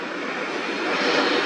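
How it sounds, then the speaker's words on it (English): A Honda Jet business jet passes at an airport, its engine roar loud, broadband and steady, swelling slightly as it goes by. "For those of you who have not come to know the Honda Jet, this is your opportunity."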